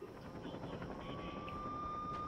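A helicopter in the video game Saints Row 2 drones faintly with a steady rotor and engine hum for a couple of seconds.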